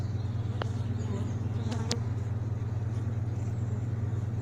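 A mix of black and hybrid honey bees buzzes at a freshly opened hive in an apiary, a loud steady drone close by, with a few brief clicks and knocks.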